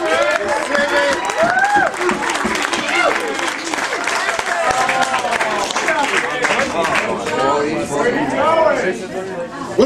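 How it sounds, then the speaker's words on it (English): Bar audience at a comedy night in Akron clapping and chattering for a comedian, steady dense applause with crowd voices mixed in throughout. "Keep clapping."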